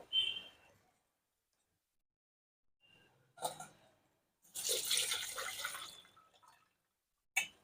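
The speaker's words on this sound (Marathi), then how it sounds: "गार पाणी टाकायचं" Short bursts of cold water splashing and pouring over soya chunks, the longest a couple of seconds of running liquid, separated by quiet gaps; no talking.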